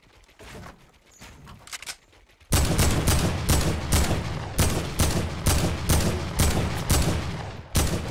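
Rapid bursts of gunfire in the Fortnite video game on Xbox One start after a quiet opening and then repeat loudly in close succession, like sustained automatic fire.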